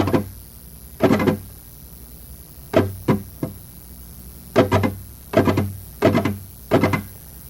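Short percussive flamenco guitar strums played with thumb and fingers in quick clustered groups of two or three, sharp and woody with brief gaps between each group.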